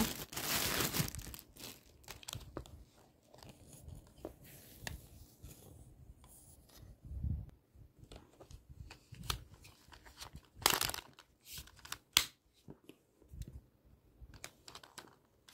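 A wireless headset package is opened by hand: close, intermittent crinkling, rubbing and tearing of plastic and paper wrapping in short bursts, with no talking.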